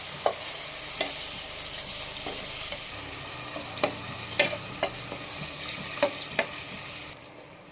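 Biryani spices sizzle steadily in hot ghee in a pan while a spoon scrapes and clinks as they are stirred at intervals.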